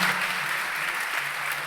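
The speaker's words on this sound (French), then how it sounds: "Je crois qu'on peut l'applaudir." A brief burst of steady crowd applause rises for a business leader at a business school graduation ceremony, a dense, even wash of clapping heard alone.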